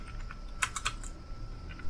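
A computer keyboard is being typed on quietly, a few scattered key clicks including an Enter press, faint and close over steady low background hum.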